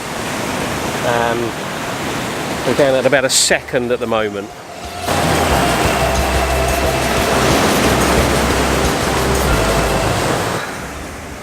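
Ocean waves breaking on the shore around sunrise, a steady roaring wash of surf that swells and holds, with someone speaking briefly over it early on.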